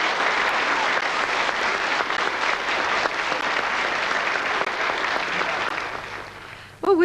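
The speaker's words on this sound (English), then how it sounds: "let's give your mum a good clap" A studio audience claps steadily and warmly for several seconds at a charity appeal broadcast, then the applause fades and a voice begins speaking at the end.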